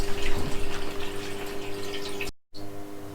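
Water trickling and dripping from a Red Sea Max Nano reef tank flooding onto a room floor, a steady close splashing flow over a constant pump hum, briefly cut to silence near the end.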